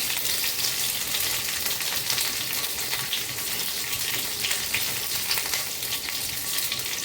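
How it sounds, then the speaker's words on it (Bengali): Bay leaf and a dried red chilli hit hot oil as the tempering for a vegetarian green jackfruit curry, giving a steady, close, bright crackling sizzle that holds even for about seven seconds with no talk. "ফোড়নে দিয়ে দিচ্ছি একটা তেজপাতা, একটা শুকনো লঙ্কা,"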